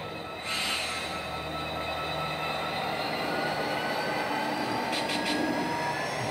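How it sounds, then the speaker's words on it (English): A model train locomotive runs on a freshly cleaned layout track, giving a steady, continuous rolling rumble with a faint high whine that persists throughout, close by and with no talking. "Did a test run uh, with the locomotive through here"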